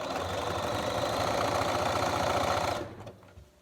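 A sewing machine runs steadily while edge stitching pajama pants, a loud continuous motor hum with rapid needle rhythm for nearly three seconds before stopping abruptly, leaving quiet.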